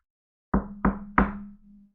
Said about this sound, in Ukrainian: Хто це там стукає у двері?